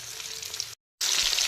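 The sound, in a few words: chicken pieces frying in oil in a pan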